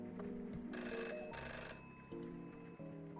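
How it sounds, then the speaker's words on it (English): A telephone rings in a quiet room with a faint, repeated electronic trill, soft and somewhat distant under low background tones, with no one speaking. "The phone interrupted my thoughts, snapping me back to the moment."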